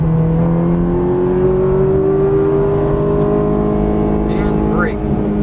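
A Ferrari 430 engine drones steadily and loudly, its pitch rising slowly as the car drives hard around a race track, with a continuous whirring tone throughout.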